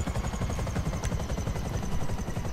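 A helicopter in a video game thrums with a dense, continuous rotor and engine drone, loud and unbroken, with no voices over it.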